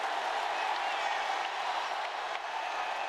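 A basketball arena crowd at an ACC men's college game, Miami versus Georgia Tech, roars and claps in a steady, loud wash of cheering that holds for about three seconds and eases only slightly near the end.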